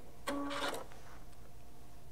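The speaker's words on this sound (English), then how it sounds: "I'm gonna press my scissor button." Baby Lock Solaris 2 sewing machine firing its automatic thread cutter: one short, quiet mechanical whir-and-clack burst lasting about half a second, then near silence.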